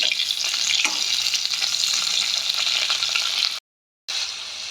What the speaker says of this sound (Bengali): টমেটোটা দিয়ে নাড়া করব